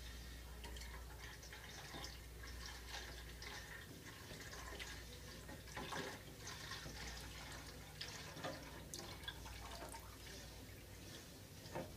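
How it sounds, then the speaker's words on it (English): Lye solution is poured into a pot of soap-making oils, a quiet, steady splashing trickle with small drips running throughout and no voices. "now when you pour it, you're going to pour it away from you"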